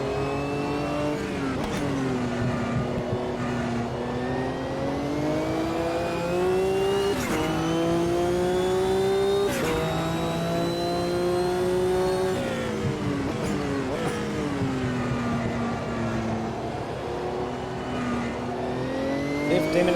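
Race cars in the Automobilista 2 sim during a World Sportscar Championship race, engines loud and close with continuous high revving, repeated gear shifts and rising and falling pitch over twenty seconds.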